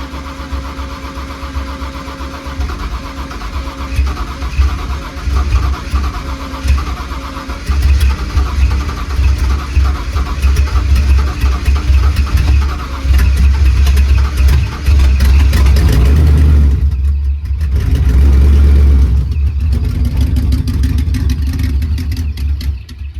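A cold car called Percy, fitted with new side-exit exhaust, cranks over on a weak battery and catches, its loud low rumble building into sustained revving and idling with deeper bursts near the end.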